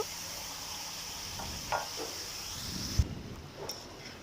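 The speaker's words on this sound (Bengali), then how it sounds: "এর ভিতরে আমি এখন দিয়ে দেব কাঁচা কাঁঠালগুলো দিয়ে, হ্যাঁ পরিমাণ মতো একটু ঝোল দিয়ে দেব।" Raw jackfruit and broth going into a sizzling chicken curry: a steady hiss of frying with a few stirring scrapes and a sharp knock, after which the sizzle drops noticeably.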